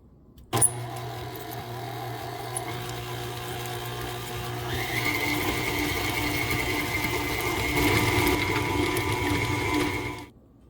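An electric mixer beats butter, sugar and three egg yolks for spritz cookies, starting with a sharp click then a steady whirring motor hum that rises in pitch midway and cuts off at the end, with no talk.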